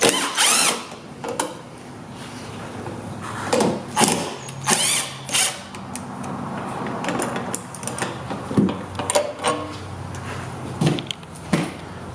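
Tools work at a BMW fuel pump control module as it is removed, giving brief clicks, ratcheting and short drill-like bursts in an irregular rhythm, close by with no talking.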